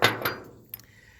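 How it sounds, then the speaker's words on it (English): A hammer drives an injector cup into a Powerstroke 6.0 engine with two close, ringing metallic strikes in quick succession, then a fainter tap shortly after. "You slide it over here, and you hammer it in there."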